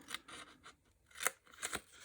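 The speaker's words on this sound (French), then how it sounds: "je vais prendre mes ciseaux et je vais venir" Scissors snip through folded paper for a tea-box advent calendar. A few crisp, separate cuts come close and fairly soft, the sharpest near the middle and end, with no talking.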